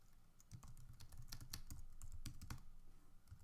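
Rapid, irregular keystrokes on a computer keyboard, close and fairly quiet, forming a steady run of soft clicks with no voices.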